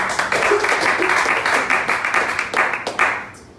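Congregation applauding in a church service, a loud, full burst of many hands clapping that stays strong, then thins and fades toward the end.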